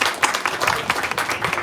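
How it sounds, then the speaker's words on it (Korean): A church congregation claps together during worship, a short spell of dense, scattered hand claps filling the room at moderate loudness with no voices over it. "한번 영광의 박수 하나님 앞에 올려드리겠습니다"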